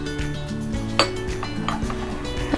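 A container of wax set into hot water, with a clear clink of the container against the pot and softer scraping and knocking around it, close and short.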